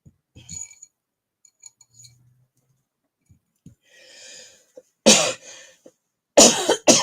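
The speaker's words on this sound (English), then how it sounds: "my coughing has gotten a lot better" A person coughs from a respiratory illness, with a few faint early coughs and throat sounds, then two loud, harsh bursts near the end, separated by quiet gaps and light clinks.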